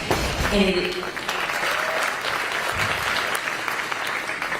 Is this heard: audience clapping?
yes